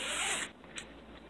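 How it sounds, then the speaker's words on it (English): Zipper on a curved scimitar sheath pulled open in one close, quick raspy run, followed by a brief second zip stroke and quiet handling. "it's got a zipper here"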